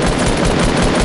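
Video game gunfire rattles in a loud, dense burst of rapid automatic shots that fill the whole second without pause.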